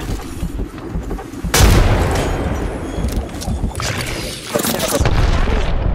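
A grenade detonates with a loud, sudden boom in the Apex Legends battle royale shooter, with a second blast a few seconds later amid ongoing gunfire and game noise; someone talks over it.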